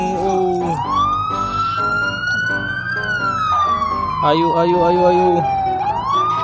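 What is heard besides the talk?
ambulance siren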